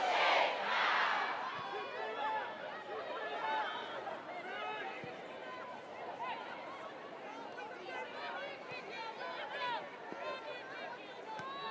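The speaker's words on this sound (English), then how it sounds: "Again, the crowd tries to apply some pressure." Crowd noise in a football stadium during a women's FA Cup fourth-round match between Arsenal and Bristol City, a broad roar of chanting and shouting voices with a louder swell at the start.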